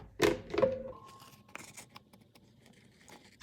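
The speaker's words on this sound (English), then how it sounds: "And I'll cut off the excess." Scissors snip through excess paper on a planner spread, a couple of quick close cuts followed by faint rustling and light handling of the paper.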